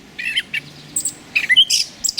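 Birds chirp and tweet in a backyard mulberry tree, a run of short, bright calls arriving in scattered bursts, fairly close and clear against a quiet background.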